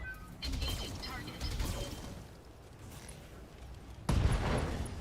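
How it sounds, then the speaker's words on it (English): Ammo explosion on a mech in Battletech: a sudden loud, dense burst near the end, following a stretch of rumbling mechanical combat noise and scattered impacts. "Ammo explosion."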